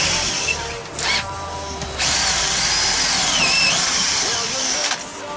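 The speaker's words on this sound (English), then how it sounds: "when the drill comes out the other side it will splinter the door and leave a nasty mark there" Power drill boring a hole through a kitchen cupboard door, a loud high whine in short bursts that then runs steadily, its pitch shifting as the bit cuts through the wood.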